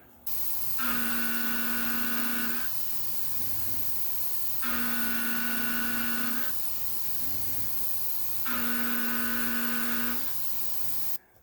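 A milling machine takes a 0.100-inch width of cut in tool steel, giving three separate bursts of steady, tonal cutting whine over a low background hum, each lasting about two seconds.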